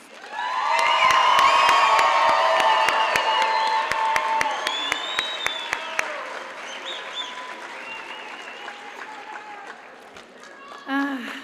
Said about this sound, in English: let's give these incredible graduates one more round of applause